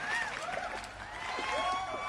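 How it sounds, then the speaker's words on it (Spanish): A studio audience applauds on a Spanish-language TV talk show as a guest is introduced. Quiet, continuous clapping runs under a voice with rising and falling tones. "Que vengan los aplausos, ingeniero, que no los oigo"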